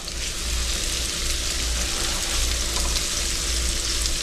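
A fried rice mixture with crispy bacon sizzles steadily in a pan as it is stirred, a constant bright frying hiss with low rumbling underneath, no voices.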